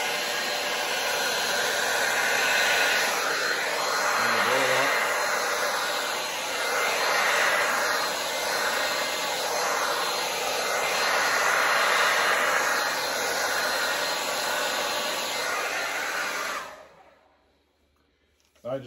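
A hair dryer blows loudly and steadily across acrylic paint during a Dutch pour painting, a continuous close roar that stops abruptly near the end.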